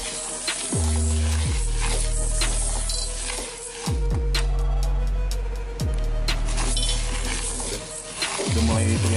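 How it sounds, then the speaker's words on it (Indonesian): Silica gel beads being stirred in a dry pan over heat, giving scraping, rattling clatter with repeated sharp metallic strikes and a steady low hum underneath, fairly loud throughout. "Oke, ini kita aduk."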